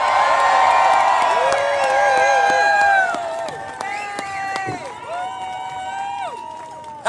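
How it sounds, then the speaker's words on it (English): Rally crowd at the People's State of the Union on the National Mall cheering and whooping, with shouts and loud hollers rising over steady clapping before easing a little, the cheering still going as it fades. "So you're going to want to give her a major round of applause."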